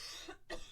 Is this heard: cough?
yes